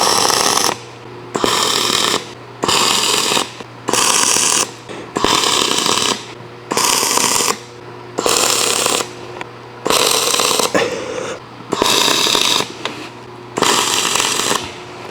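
Tack welds being struck on angle iron over a steel welding table: about eight loud, evenly spaced crackling bursts, each roughly a second long with short pauses between, a steady low hum running underneath throughout.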